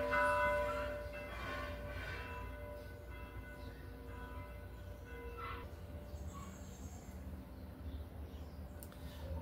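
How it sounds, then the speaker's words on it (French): A church bell rings out with steady sustained tones at first, its resonant strokes fading and lingering in a quiet room with no talking. "On va laisser la cloche s'arrêter."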